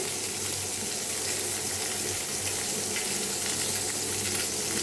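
Fish frying in oil on a stove, a loud, dense, continuous sizzle close by, crackling steadily with no pauses and no talk over it.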